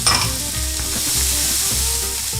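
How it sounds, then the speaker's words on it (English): Spring onions and red pepper sizzle steadily in a hot, oiled pan, a continuous dense frying hiss with occasional stir scrapes and no voices. "Now cook off some spring onions, some red pepper, whatever veg you have to hand."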